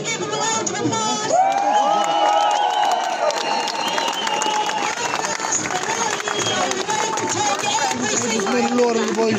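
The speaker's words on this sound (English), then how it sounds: "can we give them a round of applause?" Crowd at an outdoor national protest in Cork City cheering, shouting and applauding for musicians and a piper, a loud, dense roar that swells and holds throughout with voices mixed in.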